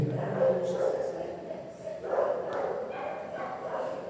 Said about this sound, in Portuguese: aproveitando que passou um cachorro aí